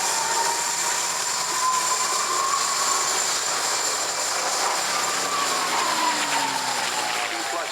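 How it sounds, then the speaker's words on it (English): P-51 Mustang making a flyby at an airshow, a sustained engine drone with a high whistling tone that shifts in pitch as it passes, steady and fairly loud, with commentary over it. "everyone's going to hear the Mustang coming from around the corner because of that whistling noise and all the gun ports make"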